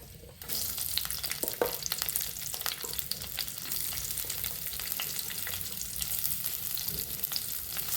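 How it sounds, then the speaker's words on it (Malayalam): Onions and green chillies sizzle steadily in hot coconut oil with fenugreek seeds, a dense, continuous frying hiss with occasional crackles and stirring scrapes, close and fairly loud throughout. "പച്ചമുളകും സബോള ഇട്ട് കൊടുത്തിട്ടുണ്ട്. അതൊന്ന് സെറ്റായി വഴറ്റിയെടുക്കാം കേട്ടോ"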